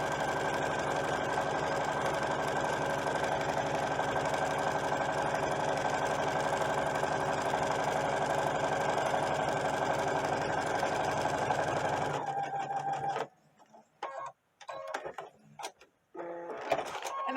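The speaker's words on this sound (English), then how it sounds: "I'm going to stitch straight across the top of this." A sewing machine set to a long stitch length runs straight across the top of a doll dress skirt, a steady whirring drone for about twelve seconds that then stops, followed by a few light clicks and handling sounds.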